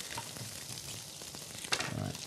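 Butter sizzling in a frying pan, a soft steady crackle and hiss close by, fairly quiet, with a brief clatter near the end.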